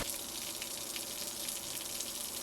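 Water rushes faintly and steadily from an RV faucet as air is purged from the water lines, a continuous soft hiss with no break.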